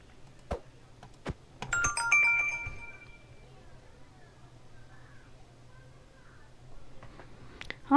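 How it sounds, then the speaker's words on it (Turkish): Short electronic phone notification tones ring out in a quiet room, a few chimes and pings spread over several seconds with a low steady hum beneath. "hala daha bildirim atıp duruyorlar arkadaşlar"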